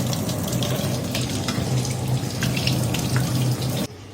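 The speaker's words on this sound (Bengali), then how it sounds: "সবসময় একটু এরকম ঠান্ডা জলে ধুয়ে নিতে হবে, নাহলে একটু ওভার সিদ্ধ হয়ে যাবে" A tap runs steadily as boiled Maggi noodles are rinsed under cold water in a village kitchen, a continuous close splashing stream that cuts off abruptly near the end.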